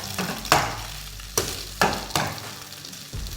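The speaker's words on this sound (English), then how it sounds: "So I'm going to keep stirring this till it becomes brown a little" Beef stir fry sizzles in a pot on the stove while being stirred, with a constant hot frying hiss broken by several sharp scraping strokes of the spoon against the pot.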